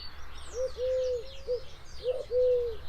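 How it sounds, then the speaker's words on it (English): Collared dove cooing: soft, hollow, repeated three-note coos in a short-long-short beat, heard twice over a background of faint chirping from other birds. "So let's just have a listen to the beat of the collared dove."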